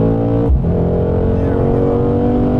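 Turbocharged V8 of a 2019 Mercedes-AMG C63 S sedan accelerating hard on a race track, a loud, steady engine drone with a brief dip before the power comes back on, heard from inside the car.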